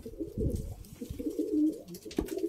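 Large pigeons in a loft coo repeatedly, low throaty calls rising and falling close by, with some rustling and a sharp knock near the end.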